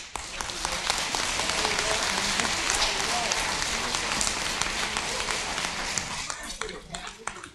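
An audience at a school board meeting breaks into dense, energetic applause with some voices mixed in. Scattered sharp claps stand out as it tapers off near the end.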